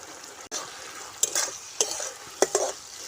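Spoon stirring chili paneer vegetables simmering in a pan, with a steady low bubbling sizzle broken by several distinct scraping stirs, close and moderately loud, no voices.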